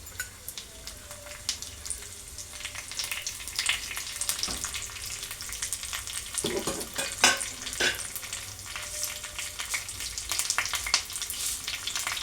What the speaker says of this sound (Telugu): జీలకర్ర అన్నీ వేసుకుని తయారు చేసుకుంటాం కదా, అవి దినుసులు కొంచెం వేసుకుంటున్నాను